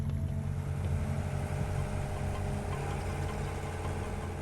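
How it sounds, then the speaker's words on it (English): Boat engine running hard at full throttle after repairs, a steady droning hum with a low throbbing pulse, continuous and moderately loud, no voices. "we're also gonna run it at full throttle for a few times to see how the engine behaves"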